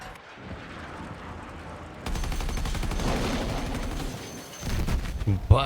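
Battlefield 6 Conquest match on the Firestorm map: after a quieter stretch, rapid automatic gunfire erupts in a dense, sustained rattle of shots, with heavier bursts near the end.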